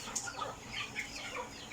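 Broiler chickens on a farm cluck and chirp softly in scattered short calls over a quiet background.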